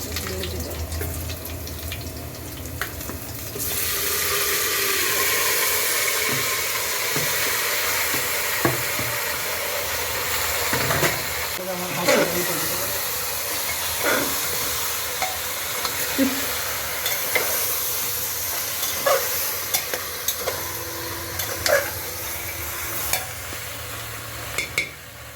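Meat with onions sizzles in a pan while a spoon stirs it, a steady frying hiss broken by scraping clicks and knocks against the pan, close and continuous for the full length.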